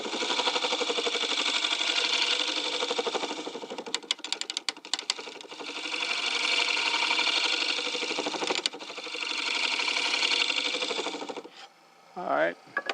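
On a wood lathe, a skew chisel scrapes a spinning wooden bowl, giving a steady close rattling hiss that swells and fades in long passes, with sharp ticks between passes, before the tool lifts off and the spinning winds down.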